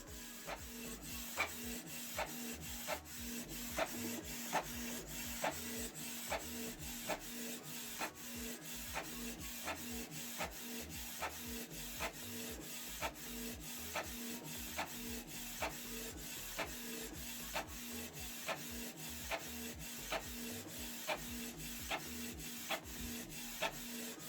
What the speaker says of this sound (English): It will print out the second page.